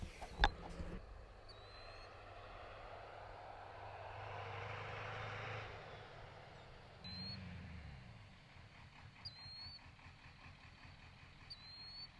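A faint, distant 1986 Ford SuperCab pickup truck engine revs high with valve float and swells as it passes by, then fades under a quiet background with a few sharp chirps.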